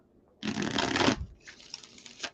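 A deck of tarot cards being shuffled in two close bursts, a dense riffling rush followed by a shorter, softer flurry that ends in a light tap, with no talking.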